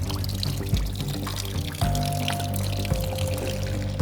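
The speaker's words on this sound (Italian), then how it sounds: "Bene, scarichiamo l'acqua." Water pours and gurgles steadily from the reservoir of an Alfa 156 GTA as it drains, a close, continuous splashing stream with a few small knocks.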